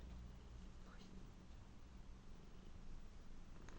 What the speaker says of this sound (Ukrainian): Мурчить, чуєш?